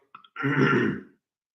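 A single rough, raspy throat clearing, close and fairly loud, lasting under a second after a couple of small breathy sounds.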